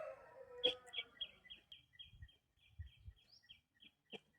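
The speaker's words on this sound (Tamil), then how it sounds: "பாருங்க மணிப்புறா" A spotted dove calls in a village setting, its soft, repeated coos falling in a steady rhythm at moderate distance, with a sharp nearby knock near the start and faint low rumbles underneath.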